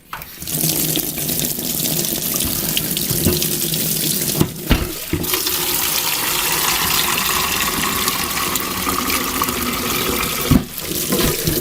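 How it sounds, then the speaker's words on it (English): Steady broadband rush of water pouring from a tap, continuous and close, with a couple of brief clunks partway through. "all what you do is just get your tap"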